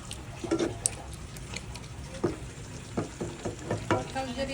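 Pork hitting a hot pan for pork caldereta, giving a quiet, close sizzle with several sharp spits and scrapes of stirring at irregular intervals.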